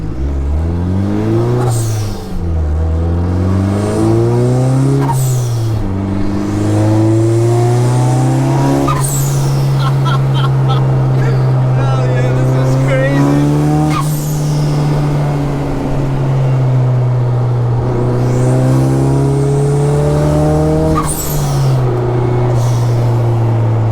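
A 1965 Buick Riviera's engine revs hard as it is driven, rising and falling in loud repeated surges with tire squeal mixed in, running continuously near the listener.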